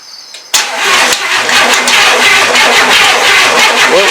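A car engine cranks and catches on its first start after being installed, with a stuck starter, bursting in suddenly and loud, then settling into a rough, steady run alone.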